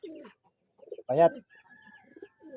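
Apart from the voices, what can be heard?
pigeon cooing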